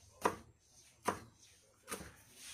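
A knife chops garlic on a board in three sharp, separate strikes about a second apart, close and fairly quiet.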